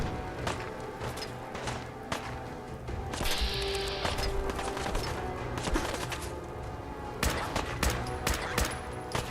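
Gunfire aimed at a Raider in Fallout 4: bursts of shots and impacts, with a sustained rattling volley through the middle and more sharp cracks at the end, moderately loud.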